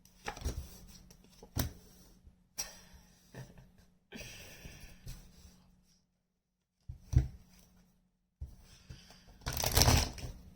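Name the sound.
shuffling tarot cards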